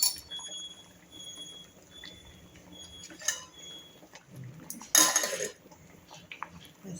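A pot of rasam with pepper and cumin is covered in a home kitchen. There are a few light metallic clinks, then a louder clattering clank as the lid settles, close by against a quiet background.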